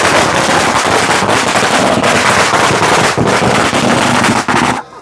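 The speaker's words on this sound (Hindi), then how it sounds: "इधर पटाखे भी फूटने लग गए हैं।" Dense, continuous crackle of firecrackers bursting loud and close at a hill-village wedding as the procession arrives, rapid overlapping pops filling the whole stretch before cutting off abruptly at the end.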